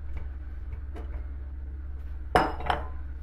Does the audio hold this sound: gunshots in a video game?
no